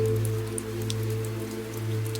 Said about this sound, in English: The rain grew a little heavier now,